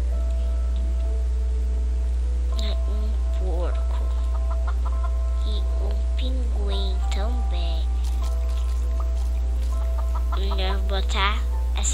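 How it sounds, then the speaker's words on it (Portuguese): Clucking chickens from the video game Mini World repeat in short, close bursts over about twelve seconds, with game background sound beneath. "Ah, uma galinha vermelha. Um galo e uma galinha."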